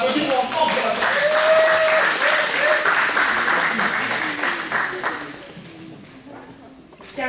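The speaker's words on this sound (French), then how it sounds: "On applaudit pour encore pour la sœur." A church congregation applauds for a sister at a Sunday-school celebration day with steady, full clapping that gradually thins out, while a voice speaks over it.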